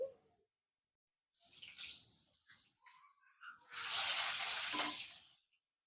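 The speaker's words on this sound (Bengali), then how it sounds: "এই আলু দুটোকে এই এই তেলেই ভেজে নিচ্ছি" Two potatoes frying in the same oil just used for bitter gourd, heard as two bursts of broadband sizzling hiss with a short quiet gap between them.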